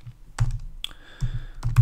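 Keys clatter on a computer keyboard in quick, uneven bursts of close, crisp clicks separated by short pauses.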